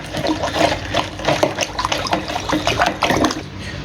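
Water sloshes and swirls in a large pot as salt is stirred in for a chicken brine, with irregular splashing surges close up and no speech.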